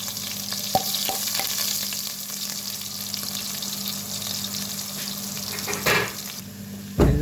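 Ginger garlic paste with spices frying in a pan for biryani, a steady close sizzle with occasional stirring knocks and scrapes, continuous and fairly loud, with no voices.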